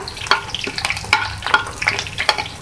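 Green and red chilies, onion and cumin seeds sizzle and crackle in hot oil for kadhi, with a steady frying hiss broken by repeated stirring scrapes, close up and without talk.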